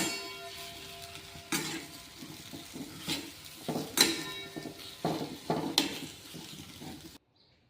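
A spoon stirs and scrapes a batata vada potato filling mixed with salt and coriander in a pan, giving irregular close knocks and scrapes with a few sharper clanks, ending abruptly.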